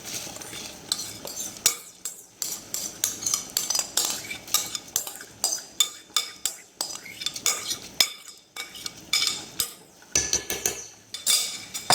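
Rice for a chicken biryani is poured into a pot and stirred, with rhythmic metallic scraping and clinks of a spoon against the pot repeating throughout, close up.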